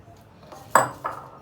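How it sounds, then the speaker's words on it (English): Peanut butter and banana mixed in a bowl for vegan oatmeal cookies: a soft scrape, then two clear knocks of a utensil against the bowl, close and brief. "You incorporate the peanut butter. And the banana like this."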